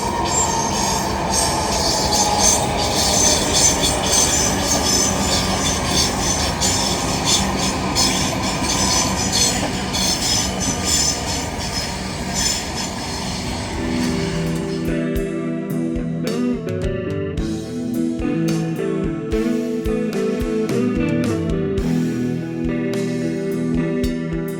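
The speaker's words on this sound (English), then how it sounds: "Our train." A passenger train runs along the rails with a loud steady rumble and wheel noise, shifting partway through to sharper rhythmic clicks, squeals and metallic tones as it rolls on.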